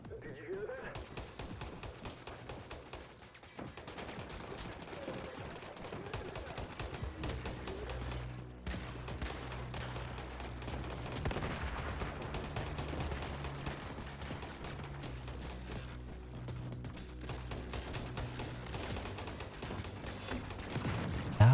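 Continuous gunfire from the Once Human game, dense and steady with rattling bursts throughout, mixed with voices talking over the shooting.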